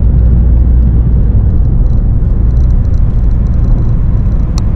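Steady, loud road rumble from inside a moving car with rusty brake rotors, a dense low roar with faint scraping grit on top, continuous throughout.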